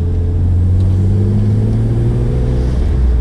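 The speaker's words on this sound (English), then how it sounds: "once you start to give it gas and it's going up a hill" A BMW E36 M3 engine accelerating while climbing a hill, a loud, steady low-pitched drone with rising tone, heard close and continuous.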